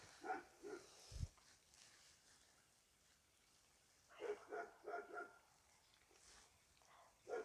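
A dog barks at fairly low volume in an otherwise quiet room: a couple of yips at the start, a single bark, then a quick run of four or five barks and one more at the end.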